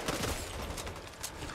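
Rapid gunfire from a shooter video game, a continuous dense crackle of shots with heavy low-end thump filling the whole moment, loud and close with no pauses.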